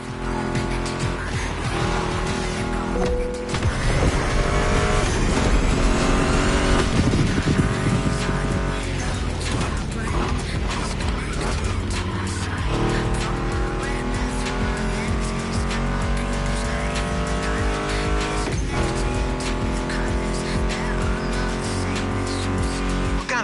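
Roaring muscle car engines, including a Mustang GT, rev and race continuously over driving music in the video game The Crew Motorfest, with occasional tire squeals cutting through the loud, dense mix.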